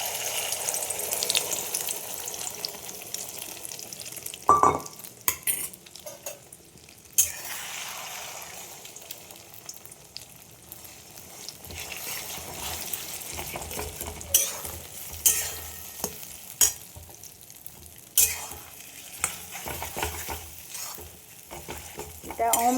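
Egg bhujia frying in oil, stirred with a utensil: a soft sizzle runs under repeated scraping and clinking strokes, with uneven bursts of stirring close by and no speech.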